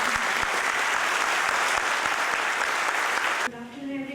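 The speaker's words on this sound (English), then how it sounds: "Can we have a great round of applause for all these eminent personalities?" A large audience at a convention center gives a sustained round of applause for eminent guests, dense and steady clapping that cuts off abruptly near the end as a voice begins.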